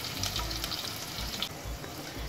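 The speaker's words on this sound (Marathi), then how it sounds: "आता आपण ठेचलेल्या लसणाच्या 4-5 पाकळ्या टाकू फोडणीसाठी" Crushed garlic cloves sizzle and crackle steadily in hot oil with asafoetida, a close, continuous frying hiss with faint stirring and no speech.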